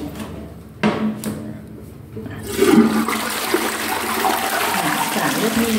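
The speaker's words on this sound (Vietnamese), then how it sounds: "Xả nước đi để cho cái mùi nó đi theo nhé." A household toilet flushes with a loud rushing whoosh of water, preceded by a couple of clunks from the lever and settling into a steady swirling drain, with a voice speaking briefly.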